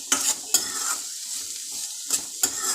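Green chilies fry in a pan with a steady hiss, broken by a few sharp clinks and scrapes of a spoon stirring against the metal.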